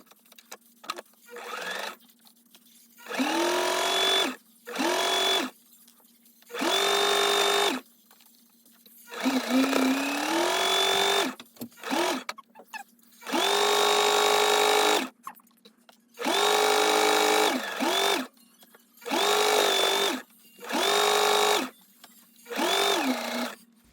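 Sewing machine stitching a half-inch top hem on a grocery bag made from screen tent fabric, running in repeated short bursts of steady motor whir separated by brief pauses.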